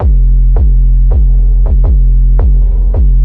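A loud, deep bass tone pulses with repeated kick-like thumps, each followed by a swelling reverberant tail, in a steady electronic rhythm.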